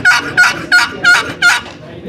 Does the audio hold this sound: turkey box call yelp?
yes